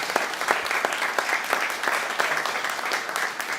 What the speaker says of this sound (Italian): un applauso per Franco,